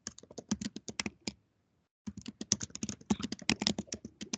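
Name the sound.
someone typing on a computer keyboard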